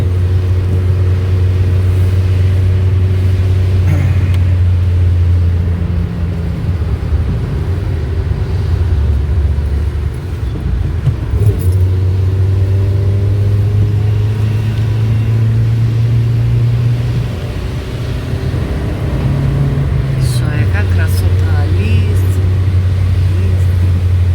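An underpowered car labours up a winding mountain serpentine road, its engine droning loud and close from inside the cabin, the pitch rising and dropping with gear changes as it climbs, with brief faint talk.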